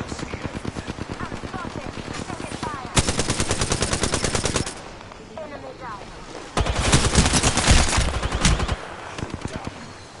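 Rapid automatic gunfire from a video game rattles in dense bursts, with a loud sustained volley near the middle and another toward the end, while a player speaks intermittently over the shooting.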